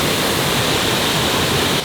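A roaring Bali waterfall, swollen with rainy-season water, fills the air with a dense, steady wash of white noise, close and loud, with no voices over it.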